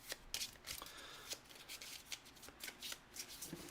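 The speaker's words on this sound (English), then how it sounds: "So let's shuffle this up." A deck of item cards for the Oathsworn: Into the Deepwood board game being shuffled by hand: repeated quick riffling flutters and soft card slaps, close and fairly quiet, with no talk.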